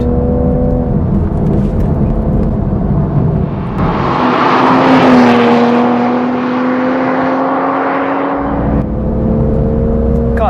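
A manual 2023 Toyota Supra drives with a steady low engine drone, then a louder rising rev swells for several seconds before settling back to cruising hum; close and continuous.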